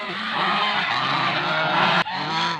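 Geese honk loudly and repeatedly at close range, overlapping nasal calls forming a dense flock chorus with no talking.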